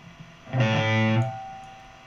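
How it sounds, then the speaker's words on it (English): A single distorted guitar chord rings out through IK ToneX and Amplitube amp-simulation software, a short, bright, fuzzy burst that sustains about a second before fading, with no voices. "it's just like a real distortion amplifier"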